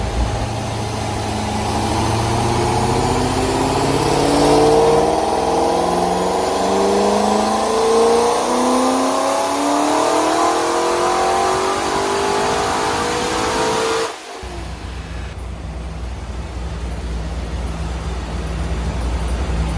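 A Chevrolet Corvette C5 Z06 engine, revived after years in a storage locker, runs loud and close with a steady rumble and a rising rev, then drops abruptly to a lower, even idle for the last few seconds.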